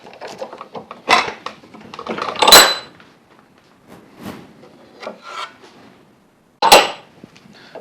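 A hand saw cuts walnut clamped to a backing board in a vise for a half-blind dovetail joint, giving a series of irregular close rasping strokes with short pauses and no talk.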